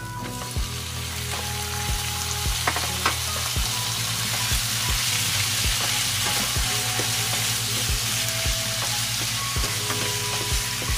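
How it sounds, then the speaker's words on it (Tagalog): Pork frying with garlic in a hot pan for ginisang sitaw, a loud continuous sizzle with a low hum beneath and scattered crackles and stirring clicks throughout. "Next, ilagay na natin yung ating pork guys."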